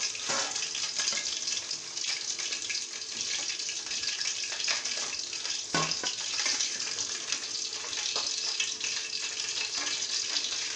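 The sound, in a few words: chicken 65 deep frying in oil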